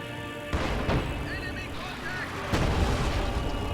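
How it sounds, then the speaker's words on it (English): A high explosive artillery barrage in a World War II tank strategy video game rumbles as a continuous low roar of distant blasts, with a couple of sharper booms standing out, while a voice talks over it. "High explosive barrage going off."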